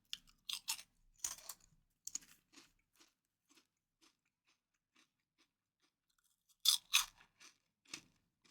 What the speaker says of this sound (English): Just eating these crisps.